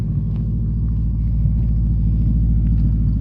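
Steady, deep exhaust rumble from a car fitted with a 3-inch pipe, idling loud and close with a low, even throb throughout and no talking.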